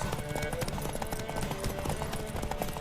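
Rhythmic horse hooves clip-clopping at a quick pace, fairly close, under a busy mix of game music and shouting voices in The Witcher 3: Wild Hunt on PS4.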